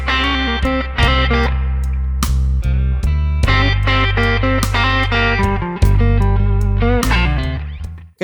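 A slow blues lick on overdriven electric guitar, with bent and sustained notes over a low held bass note, played clearly with no talking.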